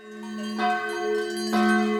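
Church bells in Switzerland ring out loud and clear at 6 a.m., two strikes with long sustained overlapping tones that hum and linger.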